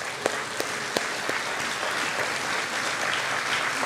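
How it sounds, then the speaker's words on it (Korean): Applause from a church youth congregation welcoming visiting ministry staff, dense and continuous throughout, with a few sharper individual claps standing out near the start, fairly close and steady. "우리 환영의 박수 하겠습니다"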